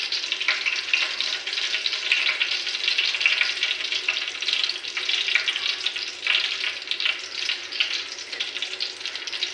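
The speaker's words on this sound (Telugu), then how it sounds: "మెంతులు వేస్తున్నానండి." Fenugreek seeds drop into hot cooking oil and fry, a loud, dense, steady sizzle close up that crackles continuously without letting up.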